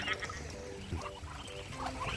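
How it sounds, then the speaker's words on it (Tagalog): A duck following a person on foot near a hut gives soft, low quacking calls in short bursts, faint against quiet outdoor background. "La, sinusundan ka ng pato."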